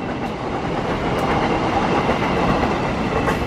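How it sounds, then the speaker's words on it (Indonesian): The Parsel Selatan train rolls through a station with a steady, loud rumble and dense clattering of wheels on rails, close by and continuous, with no talking. "Kereta api Parsel Selatan."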